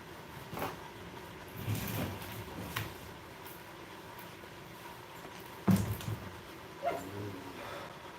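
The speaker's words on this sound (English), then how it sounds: "They're barking because it's a full moon" Dogs bark and yip a few times at a distance over a quiet background, with short scattered outbursts rather than steady barking.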